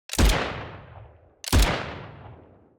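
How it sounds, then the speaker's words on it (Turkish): Two sniper rifle shots from the Z3 in the mobile shooter Glory Frontline, each a sharp, loud crack with a long rumbling tail, about a second and a half apart, with no other sound. "Z3 keskin nişancı tüfeği ses efekti."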